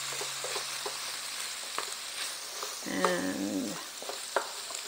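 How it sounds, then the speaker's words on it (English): Stirring vegan taco filling with diced green chilies in a hot pan, a close sizzle under scraping utensil strokes, with a louder scrape burst near the end and a brief spoken word. "We're just going to stir all this up."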